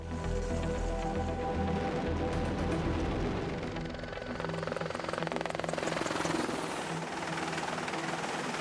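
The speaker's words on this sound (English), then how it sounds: "the development of amazing helicopters such as the AH-64 Apache" An AH-64 Apache attack helicopter's rotor and engine drone steadily and loudly throughout, a dense continuous roar with faint pulsing.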